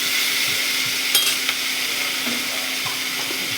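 Vegetables stir-fry in a hot pan, a steady bright sizzle running throughout, with occasional clinks and scrapes of a utensil stirring against the metal.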